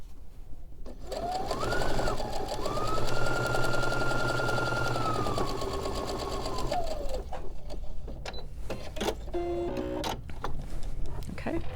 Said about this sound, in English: And I'm going to sew it, making sure my ends meet.